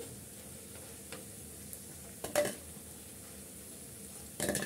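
Vermicelli pakoras frying in oil: a steady, faint sizzling hiss, broken by a few sharp clinks of a utensil near the end.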